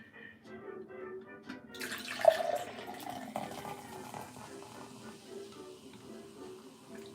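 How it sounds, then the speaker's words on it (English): Liquid pours steadily with a hissing, fizzing stream, like beer filling a glass, running continuously at moderate level in a quiet indoor space. "Sounds like I'm pouring a beer."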